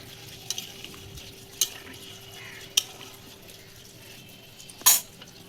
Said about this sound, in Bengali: কয়েকটা আলু কেটে রেখেছি সেটা দিয়ে দিলাম জল দিয়ে দিচ্ছি